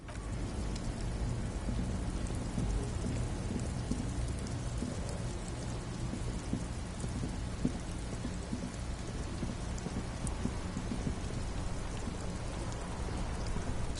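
Steady rain pours without pause in the game Disco Elysium, a dense, even hiss of falling water with faint low rumbles beneath, continuous and close throughout.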